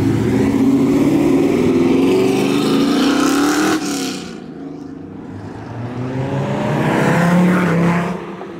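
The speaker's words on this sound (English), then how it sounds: "He got that burble tune on the classic Jag." Classic Jaguar with a burble exhaust tune pulling out of a Houston supercar meet: a loud, close engine drone that cuts off abruptly, then swells again in a second rumbling rev before fading slightly.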